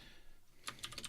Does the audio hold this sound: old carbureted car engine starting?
no